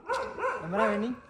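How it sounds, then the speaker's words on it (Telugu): A dog barks and snarls at another dog outdoors at night in a Hyderabad street, a short tonal growling yelp that bends up and down, close and fairly loud. "ఒక కుక్క ఇంకొక కుక్కతో కొట్లాడుతుంది గాయ్స్"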